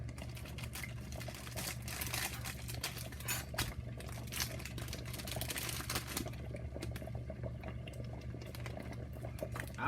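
A pot of grits cooks at breakfast, bubbling and popping continuously with dense, irregular small pops close by over a low steady hum, with no talking.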